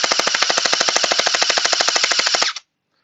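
Anstoy AKM47 gel blaster with its regular barrel firing a steady full-auto burst of about two dozen rapid, evenly spaced pops, loud and close, for roughly two and a half seconds before stopping abruptly.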